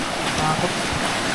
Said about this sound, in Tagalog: Kaya pala naririnig namin yung lagaslas ng tubig.